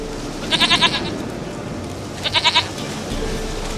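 Two short bursts of rapid, stuttering goat bleats from The Witcher 3 video game, each a quick run of about four pulses, close and clear over a quiet ambient background.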